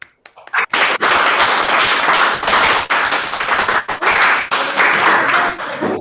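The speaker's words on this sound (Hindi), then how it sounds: "और अपने लिए जोर से ताली बजाएं।" A group in an emotional intelligence workshop session claps loudly and continuously for themselves, a dense burst of applause that starts abruptly and carries on strongly with slight surges, and no talking over it.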